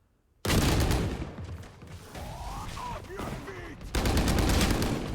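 Bulldog rifle bursts in a Valorant esports match on the map Split, loud rapid gunfire cutting in abruptly, easing under game effects, then returning in a dense final volley.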